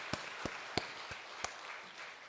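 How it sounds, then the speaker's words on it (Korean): A church congregation gives a few scattered, fairly faint claps, five or six distinct sharp slaps spaced unevenly over a couple of seconds with quiet room tone between them. "우리 박수를 한번 하려 합시다."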